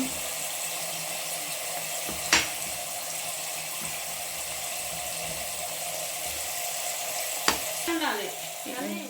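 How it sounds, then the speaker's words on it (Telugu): Tomatoes stew in a covered pan of fenugreek leaf curry, giving a steady soft sizzle and bubbling hiss throughout, with a couple of sharp clinks and a brief scraping stir near the end. "కాసేపు మూత పెట్టేసి పెట్టుకోవాలి ఇక్కడ చూడండి టమాటా అయితే మగ్గుతుంది"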